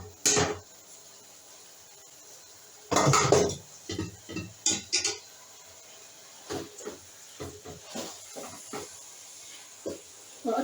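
Chong pieces dropped into a pot of qeema: a loud hissing splash and clatter of utensils against the pot, then a string of shorter knocks and scrapes, close by with steam hiss in between.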